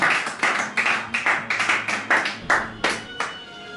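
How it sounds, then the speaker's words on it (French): A church congregation at a Sunday worship service claps rhythmically in praise of God, a steady run of sharp, moderately loud handclaps in a regular beat with no voices prominent. "Lève-toi et acclame Dieu pour cela"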